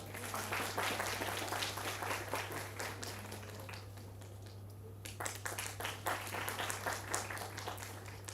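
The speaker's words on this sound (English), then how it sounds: "A big round of applause" An audience at a university student induction event applauds a chief guest, continuous dense clapping with crisp individual claps, easing briefly midway before picking up again, fairly faint and roomy over a steady electrical hum.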